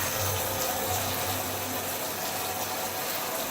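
Water runs steadily from a newly installed bronze faucet, a close, even rushing hiss with a low hum beneath, continuous for a few seconds without talk.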